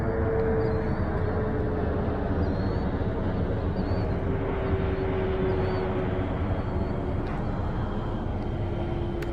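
An FMS P39 Cobra 980mm RC model plane flies overhead at about three-quarter throttle, its electric motor giving a continuous even drone with faint high whine, steady and unbroken throughout.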